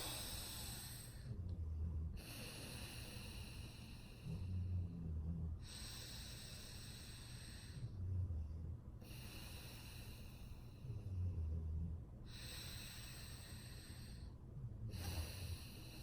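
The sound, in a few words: long deep breathing for a breathwork exercise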